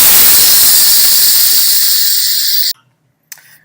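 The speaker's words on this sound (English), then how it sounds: "which is laying off the steam out of my pressure cooker" Steam blasts loudly and steadily from a pressure cooker being vented after cooking beef stew, a broad hiss that cuts off abruptly, then a brief softer puff of release.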